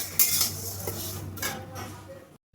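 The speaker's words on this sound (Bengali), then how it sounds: "কড়াইয়ের মধ্যে আমি এবার মুগ ডালটা দিয়ে আমি মুগ ডালটা ভেজে নেব ভালো করে।" Mung dal dry-roasts in a kadai for a bottle gourd curry, with a spoon scraping and clinking against the metal pan in a few close strokes before a brief silence at the end.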